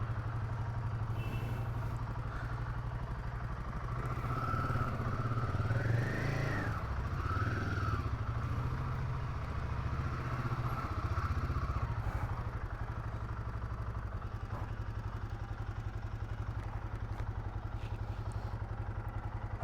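Royal Enfield Himalayan 450 adventure motorcycle being ridden, its engine a steady close low drone with a clattering rhythm, rising briefly in pitch as it revs mid-ride before settling back, with wind noise and no talk.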